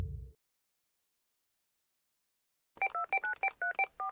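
Phone keypad dialing tones, about ten quick beeps in a brisk run after a stretch of silence, clear and close.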